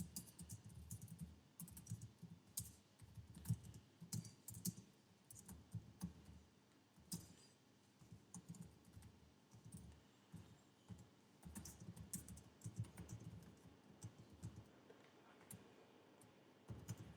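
Keys clatter on a computer keyboard in bursts of quick, light taps with brief pauses, faint and close, with no talking over them.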